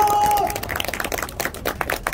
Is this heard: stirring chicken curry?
no